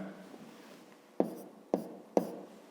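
Three crisp strokes of a pen on paper as numbers are jotted down for a math exercise, close and distinct after a short stretch of quiet room tone.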